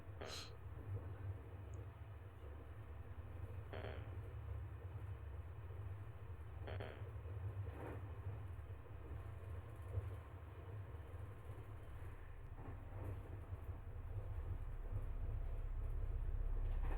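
Steady low rumble of a train running in the video game Omori, a continuous mechanical drone with a few brief clanks, loud and unbroken throughout with no talking.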